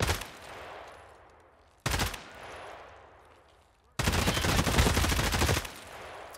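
Three loud, close bursts of automatic gunfire in the shooter game Escape from Tarkov, each cracking sharply and then fading in a long echoing tail; the last burst is the longest and densest.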